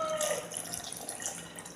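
Water is poured over gooseberries in a container, a short splashing and trickling stream with bright droplet sounds, close and moderately loud with no talk.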